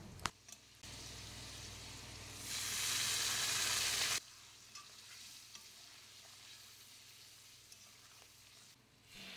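Potatoes sautéing in a pan with onion paste, ginger paste, turmeric, salt and ground spices, quiet stirring and gentle sizzling with a louder hissing burst for a couple of seconds before settling back to soft frying.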